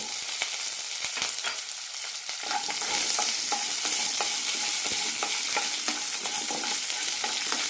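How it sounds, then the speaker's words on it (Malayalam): Red chillies, garlic, shallots and coconut sautéing in a pan for a horse gram curry, a loud continuous sizzle with repeated scraping stir strokes that grows denser partway through, with no talk. "നന്നായി വഴറ്റാം കുറച്ച് കറിവേപ്പില കൂടി ഇടാം"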